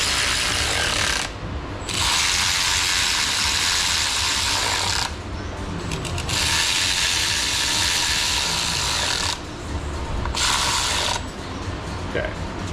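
A ratchet tightening bolts on a ZF 8- and 9-speed automatic transmission clicks rapidly and continuously in three long bursts, close and loud, separated by short pauses.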